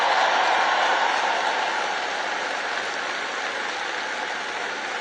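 Audience applause at a University of Alabama commencement address, a broad, steady roar of clapping from a large crowd that fills the whole stretch and slowly eases in level, with no voices over it.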